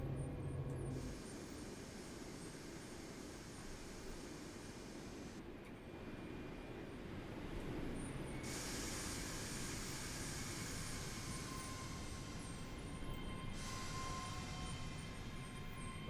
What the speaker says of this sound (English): Right, we now arrived in Croy.